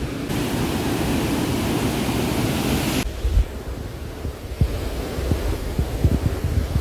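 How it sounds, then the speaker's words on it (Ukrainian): Steady broadband rush of water at the Probiy waterfall on the Prut River in Yaremche, loud and continuous, with a few dull thumps and knocks near the end. "Ох, і шумить вода."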